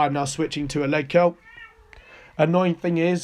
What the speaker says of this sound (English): that's my cat making a noise there